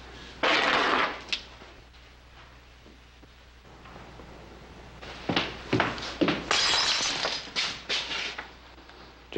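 A drinking glass smashed in a saloon, with a sharp crash early followed by a cluster of clinks, thuds and breaking bursts near the end, close and loud over a quiet room.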